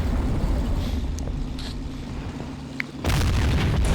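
An IS-3 tank is destroyed in the Men of War Online battle game: a low rumbling boom swells, then a loud broadband blast bursts in near the end and holds steady.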